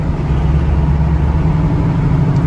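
A Chevrolet El Camino drives along with a steady, loud low engine drone and road rumble throughout, no speech.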